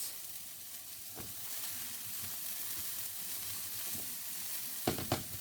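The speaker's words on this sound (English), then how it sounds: "We're going to fry those off for 5 minutes or until softened." Finely chopped vegetables softening in a pan over medium heat make a quiet, even sizzle, broken by a few soft scraping stirs, one early and a couple near the end.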